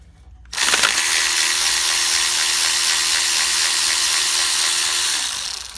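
Milwaukee power ratchet spinning 8mm bolts off the water pump of a Ford 3.5L/3.7L Duratec V6, a loud continuous whir that starts abruptly and runs steadily for about five seconds, close up with no talk.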